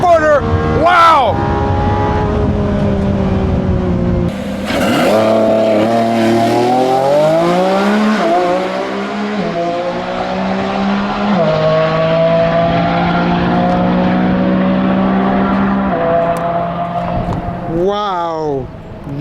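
A Lamborghini Revuelto launches and accelerates down a quarter-mile drag strip, its engine roaring loudly through rising gear pulls with brief shift dips, while people talk and exclaim over it.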